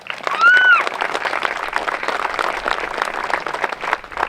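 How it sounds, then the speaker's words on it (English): Loud, dense applause from a crowd at a Celtic festival opening ceremony, steady throughout, with a brief whistle near the start. "So please give them one more round of applause."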